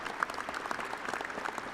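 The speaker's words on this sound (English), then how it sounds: "How about a round of applause for all of our distinguished guests today?" A university commencement audience applauds distinguished guests at a doctoral and master's degree ceremony, with steady, even clapping from many hands at a moderate, somewhat distant level and no talking over it.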